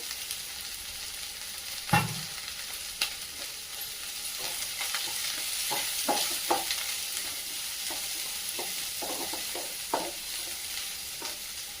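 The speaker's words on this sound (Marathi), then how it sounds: "सर्व साहित्य आता व्यवस्थित परतून घेऊन घेऊया" Vegetables and soya chunks sauté in a pan with a soft, steady sizzle, while a spatula scrapes and clicks against the pan in irregular strokes at close range.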